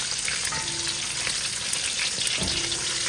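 Koobi eggplant stew ingredients fry in hot oil, giving a steady close sizzling crackle with occasional stirring scrapes and no talking.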